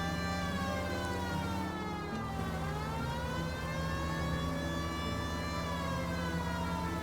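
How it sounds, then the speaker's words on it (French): Police car siren in the video game L.A. Noire, a loud continuous wail with rising and falling pitch, close and steady throughout, with no talk over it. "Je vais mettre ma sirène."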